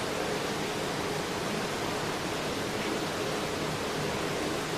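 A steady, dense rush of water runs without pause, broadband and even, like a stream or small waterfall close by.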